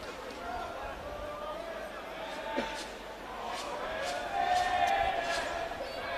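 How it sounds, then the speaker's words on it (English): Crowd at WIN Stadium during a Wollongong Wolves football match, a broad steady murmur of spectators heard from a distance, with occasional louder swells and faint shouts beneath commentary. "A good crowd today, as you can hear from below"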